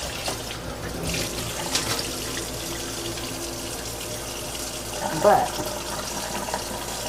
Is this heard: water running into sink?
yes